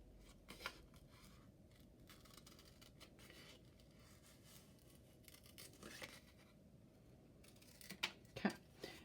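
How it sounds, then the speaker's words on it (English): Scissors snipping paper letters out for a fourth-grade craft, quiet scattered cuts and faint paper rustling over a soft background, with a few crisper snips near the end. "So I'm going to cut out my letters nice and carefully."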